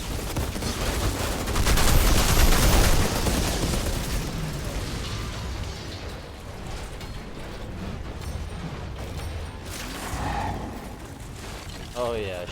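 Rapid gunfire with poison rounds in the video game Outriders, a dense continuous burst of shots that swells loudest early on and then trails into steady mechanical game noise.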